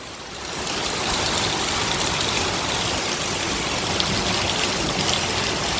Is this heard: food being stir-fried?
no